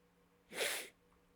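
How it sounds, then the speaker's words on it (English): A single short nasal sniff or snort lasting about half a second, breathy and broadband, close and fairly quiet against a low background hum, from someone with troubled sinuses. "sorry for the sniffling"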